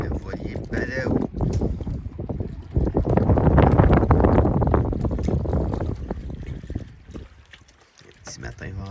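Wind gusting on a windy morning aboard the sailboat Balaou in Winakaching Bay, loud buffeting rumble against the microphone that swells in the middle and eases toward the end, mixed with faint water sounds.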